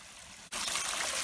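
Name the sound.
piped mountain stream trickling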